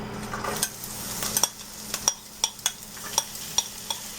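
Finely chopped onion fries in hot oil with a soft, steady sizzle, broken by a regular series of scraping stirs from a spoon against the pan. No voices.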